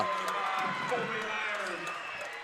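A crowd at a varsity boys high school basketball game rumbles with a steady, loud wash of cheering and noise in the gym, without a clear break throughout.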